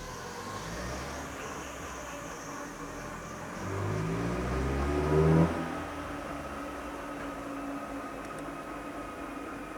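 A car engine is pushed to full load during a fuel-saver device test, rising in a steady drone for a couple of seconds and then settling back to a quieter hum, heard alone with no talk.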